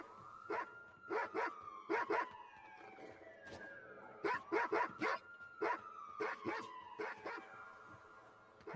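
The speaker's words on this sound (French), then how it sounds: "Le chien!" A dog in the video game Watch Dogs 2 barks in short paired and single bursts, repeated about a dozen times at a moderate distance, over a faint siren-like wail that slides down in pitch.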